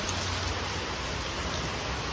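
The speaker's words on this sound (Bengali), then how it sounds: "কি ঝড় বৃষ্টি নেমেছে।" Steady storm rain pours outside a house, a dense even hiss of drops on surfaces that holds at constant loudness throughout with no voices.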